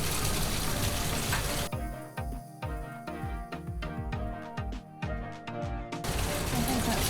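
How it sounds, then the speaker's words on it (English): Two faucets run full into a chemistry lab sink, a loud broadband gush that drops away briefly into clattering, uneven splashes before the steady rush returns. "turn both faucets on"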